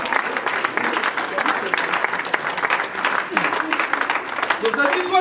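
A church congregation applauding for the Lord Jesus: steady, dense clapping from many hands filling the room, with voices calling out beneath it throughout.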